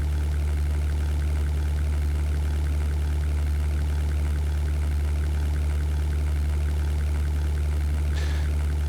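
A WWII aircraft engine in the flight game European Air War drones on steadily as a deep, low, continuous hum with no change in pitch, and a short faint click sounds near the end.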